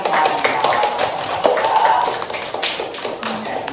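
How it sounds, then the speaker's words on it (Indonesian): A fifth-grade primary school class claps for a group that has just finished its presentation. The applause is a brief, close burst of many hands clapping, fading slightly toward the end. "Tepuk tangannya"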